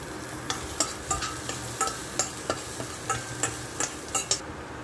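Garlic and white onion sizzling in an air fryer for binagoongan, a soft steady frying hiss broken by regular stirring scrapes about every half second, close by with no voices.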